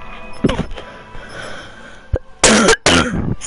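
A man lets out a few harsh, close coughs, a small one early and then two loud bursts near the end, against quiet background.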